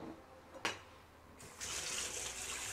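Tap water runs into a kitchen sink while dishes are washed after cooking, a short clatter followed by a steady close gush of flowing water that grows stronger partway through.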